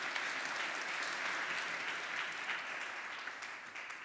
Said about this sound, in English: Let's welcome him with a warm round of applause.